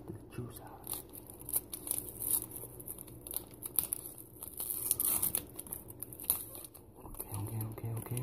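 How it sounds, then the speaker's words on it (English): Plastic packaging from a pack of hot dogs tears and crinkles in several bursts close to the microphone, sharp and scratchy, with brief pauses between pulls. "I'm going to unwrap it."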